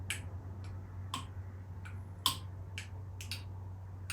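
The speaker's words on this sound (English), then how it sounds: "They're all making different sounds because of the amount of liquid inside them." Glass bottles holding different amounts of coloured liquid being tapped, producing sharp, faint clinks spaced irregularly over a low steady hum, each strike brief and bright.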